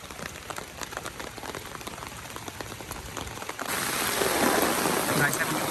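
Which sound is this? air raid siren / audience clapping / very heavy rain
very heavy rain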